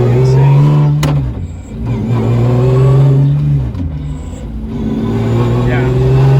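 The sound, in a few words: rally-spec BMW engine revving with short gears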